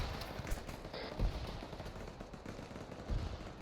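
Gunfire in Arma 3 from watchtowers and grenadiers, a steady rattle of distant automatic fire with a few heavier thumps mixed in, under a constant rumbling battlefield din.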